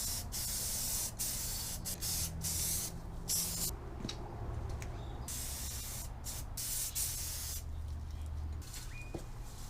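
Spray painting a custom dash for a 1965 Chevrolet C10 short bed conversion, laying on light coats: a steady, loud aerosol hiss runs nearly continuously, broken by several short pauses between passes.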